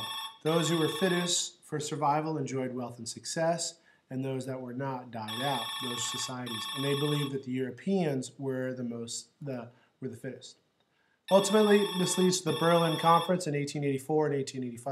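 A telephone rings in several repeated bursts behind a person lecturing steadily, the ringing fainter than the voice and recurring every few seconds.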